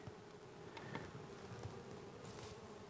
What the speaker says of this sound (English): Plenty of bees there, no shortage of bees.